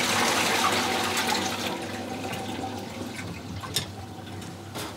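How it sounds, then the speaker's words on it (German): A toilet aboard a traditional sailing ship flushes with a loud rushing gush of water that gradually tapers into a softer refill trickle, heard close up with no voices. "Zum Glück ist es nur der Mechanismus für die Spülung."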